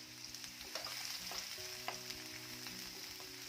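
Finely chopped onion frying in hot oil in a pan for a Maharashtrian okra curry, a quiet steady sizzle with faint crackles and light scrapes, close but soft with no voices.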